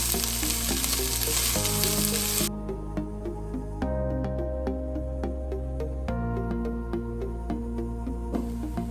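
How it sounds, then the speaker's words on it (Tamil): Small onions, ginger and garlic sauté in hot oil for a shark fish puttu, giving a loud, continuous close-up sizzle with occasional stirring scrapes and no talking. "எல்லாத்தையும் நல்லா எண்ணெயில வதக்கி விடுங்க"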